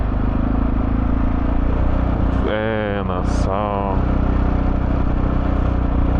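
A motorcycle touring through a Scandinavian town runs with a steady engine drone under wind rumble, while someone talks briefly over it.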